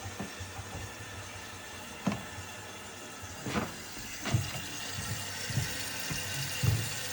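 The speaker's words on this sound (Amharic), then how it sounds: "ኦኬ እንደምታዩት ውሃው ፊል እያደረገ ነው።" Water runs steadily into a toilet tank through a newly installed fill valve, a soft continuous hiss and trickle with a few faint knocks and clicks along the way, no speech.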